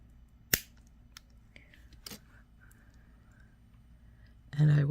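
Jewelry cutters snip a single chain link for a pair of Celtic earrings, a sharp isolated click near the start and a smaller snap later, against a quiet room with a brief voice at the end.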